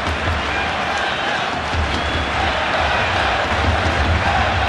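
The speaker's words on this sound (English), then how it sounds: "Crowd urging England forward." Stadium crowd noise in the FIFA 12 football video game during a Spain vs England match, a dense, steady roar of fans urging the team forward, loud and unbroken.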